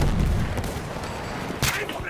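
A grenade explosion in Battlefield 1 bursts as one sharp, loud blast late in the moment, set against steady battlefield rumble and distant gunfire, with voices shouting underneath.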